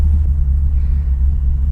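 A classic car's tri-power engine idles steadily, a deep continuous low rumble held close and loud without a break, with no voices.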